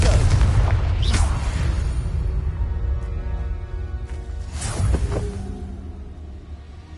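A Confringo spell blast in Hogwarts Legacy, two deep booming explosions a few seconds apart with rumbling low tails, loud and close against a steady background.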